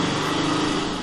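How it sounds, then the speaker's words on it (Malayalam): An auto rickshaw's small engine runs at night with a steady, close, buzzing drone that holds even for the whole moment. "ഓട്ടോ ഉണ്ട്."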